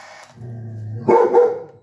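A dog barks several times in quick succession, fairly close and loud, with a brief whine before the sharper barks; no talking.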